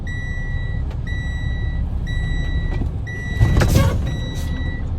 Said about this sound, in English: I will roll forward up to 5 miles an hour and stab my brake.